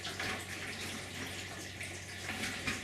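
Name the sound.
water draining from a seed bucket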